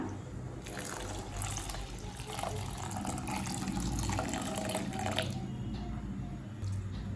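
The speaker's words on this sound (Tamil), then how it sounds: "அடுத்தது இதில் 3 கப் பால் சேர்த்துக்கலாம்." Milk streams steadily into a pot of cooked vermicelli payasam, producing a continuous close pouring and splashing sound that lasts several seconds before tapering into light trickles.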